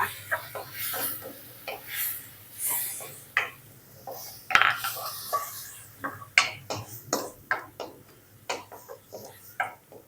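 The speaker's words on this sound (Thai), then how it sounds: "เดี๋ยวคั่วพริกให้หอมก่อนค่ะ" Clattering in a pan while Thai curry paste of pounded chili, lemongrass, shallot and garlic is dry-roasted, with a steady low hum and a run of sharp scraping ticks and knocks from utensil on metal.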